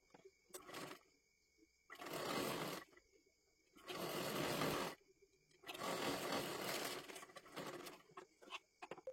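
An electric sewing machine stitches a lining into a sleeve in four loud, steady runs of a few seconds each, separated by brief pauses with small clicks and handling noises.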